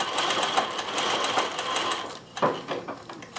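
A Consew CN2053R-1A industrial sewing machine mounted in a domestic treadle table, stitching with a close rapid whirring hum that eases briefly and then picks up again.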